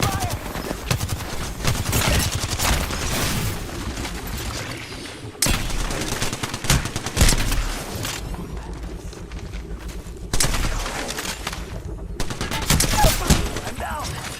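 Dense, continuous gunfire in the mobile shooter Free Fire, overlapping shots and bursts filling the whole stretch with brief lulls, a voice talking underneath at times.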